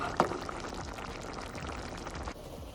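Tomato thokku simmers in a pan as its water cooks off, a faint, continuous bubbling and sputtering hiss with small pops, heard alone.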